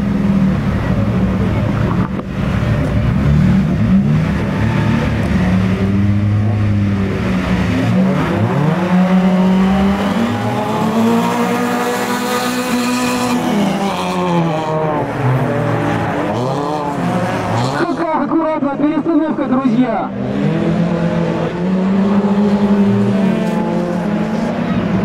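Race cars on a snowy winter auto show track roar away from the start, engines revving hard and climbing through gears, loud and continuous for the whole stretch, with a commentator's voice faintly mixed in.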